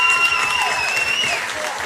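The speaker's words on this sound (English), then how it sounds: "Give them all a round of applause." A crowd applauds the bands at a Global Battle of the Bands Australasian final in 2010, dense clapping that fades slightly as a high feedback-like tone sings over it.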